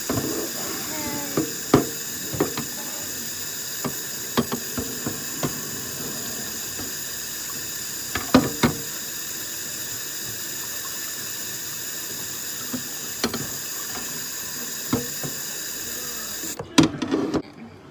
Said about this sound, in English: Rinse this off as quickly as I can.